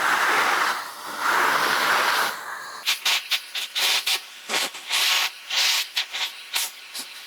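An American Micronic vacuum cleaner runs as a steady broadband whoosh, then breaks into a series of short, choppy bursts of suction noise as the nozzle works over a dirty brush, close and fairly loud.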